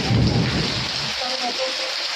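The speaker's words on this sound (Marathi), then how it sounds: "भयानक जोऱ्याचा पाऊस सुरू आमच्या इकडं" Heavy rain pours steadily while a deep rumble of thunder rolls in at the start, then fades into the constant downpour.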